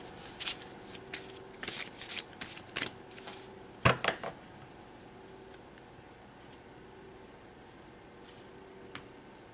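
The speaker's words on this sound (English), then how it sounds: "So let's pull more cards." A deck of tarot cards is shuffled and drawn, giving a run of quick, close riffling flutters and soft slaps, one sharper snap midway, then quiet rustling with no talking.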